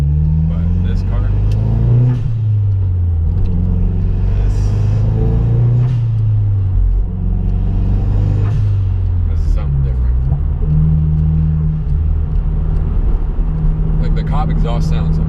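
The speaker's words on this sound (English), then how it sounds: "exhaust sounds amazing." A Mazda Speed3 engine revs and rumbles loudly through its exhaust, rising and falling in deep surges, with speech heard faintly over it.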